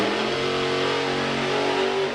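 A drag racing car at a strip roars in a steady, loud engine note with a rising tone, heard alone without voices.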